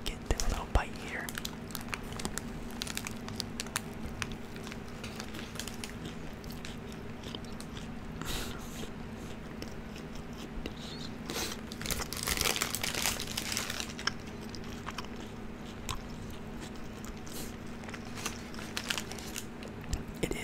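Close, crunchy bites into a sauced Taco Bell taco are followed by wet chewing, with wrapper crinkles and soft whispering between mouthfuls.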